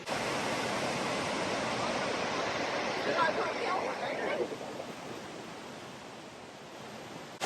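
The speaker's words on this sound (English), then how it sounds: "I've literally just turned the corner and ran straight into the waterfall" A huge waterfall at Marysville, Victoria gives a steady, loud, broadband roar of rushing water that holds close and constant throughout, easing slightly toward the end.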